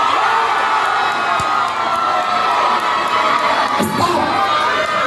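Crowd at a restaurant grand opening in Quezon City shouting and cheering loudly and continuously, with children's shrill voices and whoops filling the whole stretch.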